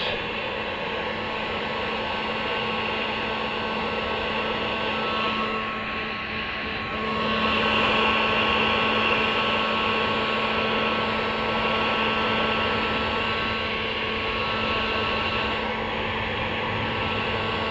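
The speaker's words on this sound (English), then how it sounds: "I just use the dryer on low heat, and I just very slowly move it up and down and just slowly work it" A hair dryer on low heat blows steadily while being worked slowly up and down over trailer cable and light connections, a continuous close whooshing drone with a slight dip and swell midway.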